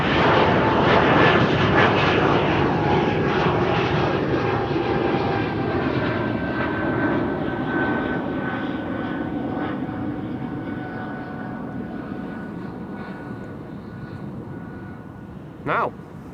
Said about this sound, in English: Croatia Airlines on its way to Zagreb. Bombardier C-Series 300